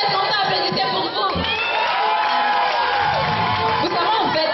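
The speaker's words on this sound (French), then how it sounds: "Si vous êtes content, applaudissez pour vous." Audience at a Fête de la musique concert in Cameroon cheering and whooping loudly, a dense crowd roar with shouts and children's voices rising over it, steady throughout.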